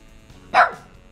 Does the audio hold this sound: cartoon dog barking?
yes